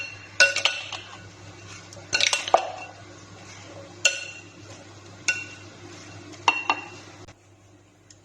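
Crushed chillies, fresh coriander and mint being mixed in a bowl with a spoon, a few sharp metallic clinks and scrapes in separate bursts against a quiet, humming background.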